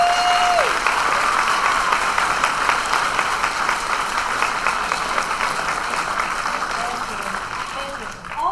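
Sustained clapping fills the hall at a high school band concert, a dense crowd applause that stays strong for several seconds and then tapers slightly toward the end.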